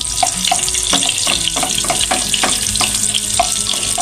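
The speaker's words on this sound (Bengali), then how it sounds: "তারপর কেটে রাখা দুটো পেঁয়াজ দিয়ে দেব। একটু নাড়ব" Two chopped onions fry in a pan for egg korma, crackling loudly and continuously while a utensil stirs and taps against the pan in an uneven rhythm.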